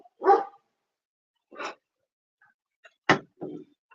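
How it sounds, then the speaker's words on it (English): Dog barking indoors nearby, four short separate barks spaced irregularly across a few seconds, fairly loud against silence. "Dog's gonna bark."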